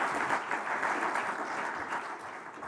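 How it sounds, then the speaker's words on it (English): An audience at a Namibia-EU business forum applauding, a brief, steady round of clapping heard from within the room at moderate distance. "I think Daniel also deserves another round of applause for that"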